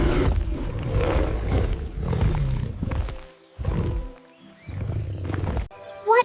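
A tiger lets out a series of deep, rumbling roars in heavy bursts with brief pauses between them, loud and near, with no people talking.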